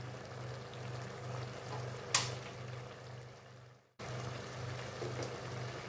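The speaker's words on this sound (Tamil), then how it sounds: "தேவையான அளவு நீர் சேர்த்து கொள்ளலாம்" Water added to a rice mixture for butter bean and peanut rice, a soft, steady pouring and bubbling wash with one sharp clink partway through, ending in a brief silence before the quiet liquid sound resumes.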